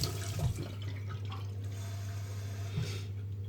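Cold water poured onto a knife-sharpening grindstone gives a steady trickling, splashing flow that runs throughout over a constant low hum, with brief louder splashes near the start and end.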